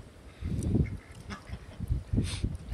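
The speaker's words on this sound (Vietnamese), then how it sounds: "Là chắc vịt trời" Wild ducks quacking outdoors, a few rough honking calls in bursts over a steady low background rumble, moderately near.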